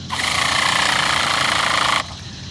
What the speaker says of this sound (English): we're going to turn over the engine a few times.